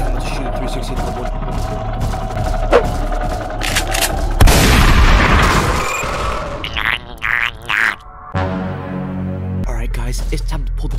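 Rapid bursts of gunfire in a Fortnite Battle Royale match, loud and dense with booming blasts and machine-gun fire mixed with game effects, continuing across the whole span with a thundering cluster in the middle.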